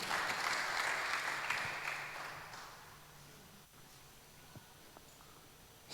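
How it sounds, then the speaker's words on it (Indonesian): A church congregation claps for God during a sermon, a dense wash of many hands that fades away over about three seconds into quiet room tone, with no talking. "Beri tepuk tangan kepada Tuhan."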